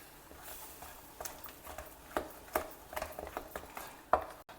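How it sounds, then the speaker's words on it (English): A mix of rice flour, wheat flour and semolina being stirred in a pan, with uneven knocks and scrapes of the spoon against the pan, close and moderately loud over a low background hum. "Now slowly add in this mix of rice flour, wheat flour and semolina and mix it all together without"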